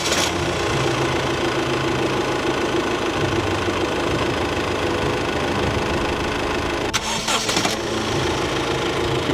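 A Honda Jazz engine starts and runs at idle in a Hyderabad workshop, with a loose, badly fitted bracket knocking; a steady loud close drone, a brief sharp burst near the end.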